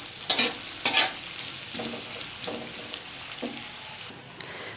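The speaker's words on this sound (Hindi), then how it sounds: "इसमें मैं डालूँगी प्याज। इसको भी मैं ज़्यादा नहीं भूनूँगी, सिर्फ 3 मिनट के लिए इसको भी मैं फ्राई कर लूँगी" Onion sizzles in hot oil in a pan for a restaurant-style mixed vegetable dish, a constant close frying hiss broken by several scraping stirs of a spoon, the loudest ones near the start.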